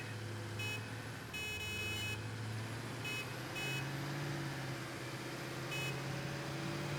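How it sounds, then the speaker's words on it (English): Repeated vehicle horn honks in the Satisfactory game, short sustained tones in several bursts over a steady engine drone, moderately loud and without speech. "By the way, honk honk."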